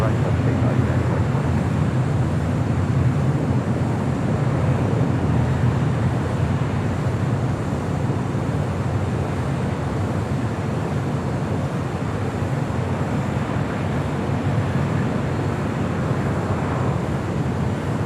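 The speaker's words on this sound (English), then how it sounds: "That was Southwest Airlines flight 1732 coming in from Houston" A Southwest Airlines Boeing 737 MAX 8 coming in from Houston to land at LAX, heard as a loud, steady broadband jet roar that holds for the whole stretch, mixed with wind buffeting on the microphone.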